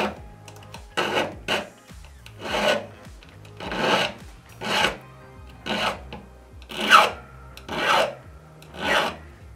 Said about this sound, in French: je viens limer jusqu'à ne plus voir de traces